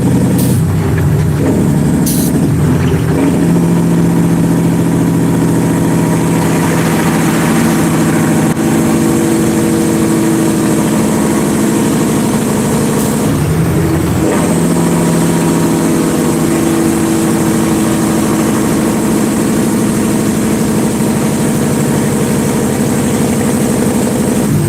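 Semi truck engine idles through its exhaust pipes, a loud, steady low rumble with droning tones that swell and dip slightly, continuous and close throughout.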